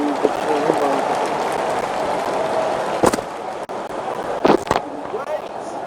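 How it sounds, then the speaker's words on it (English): A cricket crowd applauds in the Don Bradman Cricket video game: a steady wash of crowd noise with a few sharp knocks and brief louder bursts near the end. "The crowd applaud."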